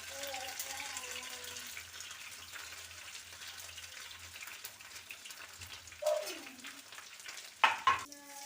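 Fish fries in a pan with a steady, quiet sizzle, while occasional scrapes and stirs come near the end and a few sharp utensil clatters stand out.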